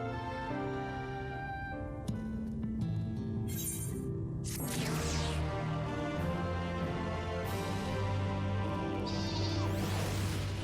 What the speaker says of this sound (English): Who's got a goat?